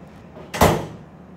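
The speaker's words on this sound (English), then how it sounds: "Shut the door, please." A classroom door swings shut with a single solid thud, close and fairly loud, followed by a short fading rumble in a quiet room.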